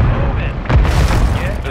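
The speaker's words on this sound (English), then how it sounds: "Airstrike on us." An airstrike explosion in a video game lands as a sudden deep boom with a rumbling tail, close and loud, over ongoing game noise and someone talking.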